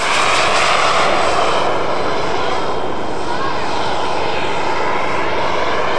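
Model Victor and Vulcan V-bomber aircraft flying past at an air show, a loud sustained engine roar that fills the whole stretch evenly, with the sound of an open-air crowd setting.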